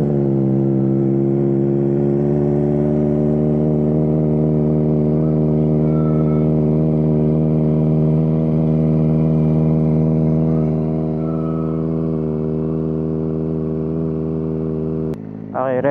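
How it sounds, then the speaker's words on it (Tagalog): A cat-deleted Kawasaki ZX4RR motorcycle idles after a cold start, holding a loud, steady, close-up engine hum for about fifteen seconds before a sudden brief noise at the end. "sound check tayo ng cold start ng cat deleted na to"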